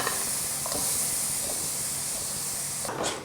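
Salted astragalus root stir-frying in a pan over high heat, a steady close hiss of sizzling with faint scraping, continuous and alone.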